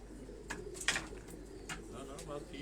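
Pigeons cooing softly in a loft, a few brief low coos and wing flutters at modest level beneath a steady background hum, with faint voices nearby.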